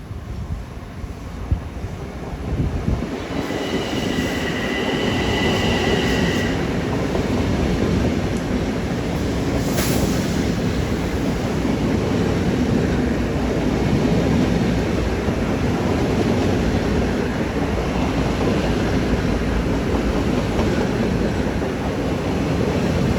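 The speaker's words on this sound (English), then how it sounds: "Should have an M9 coming on track 4." An M9 commuter train arriving on track 4 at Kew Gardens during rush hour, a loud sustained rumble and rail roar filling the whole stretch with a brief high screech partway through, heard close with no talking.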